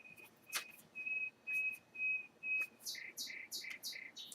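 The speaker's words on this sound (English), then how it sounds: "Can you hear my nightingales in the back?" Nightingale song played back through a speaker: a run of clear, evenly spaced whistled notes, followed by quicker chirping phrases, moderately loud and alone.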